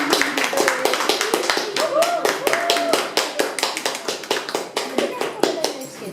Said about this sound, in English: I'd like to let us all give a round of applause to his evaluator, Toastmaster Virgito Tanis.